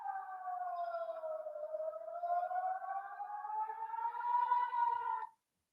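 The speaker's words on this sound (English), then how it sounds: "So all I heard was the siren." An air raid siren wails steadily in the distance, a single long rising and falling tone that swells slightly before cutting off abruptly.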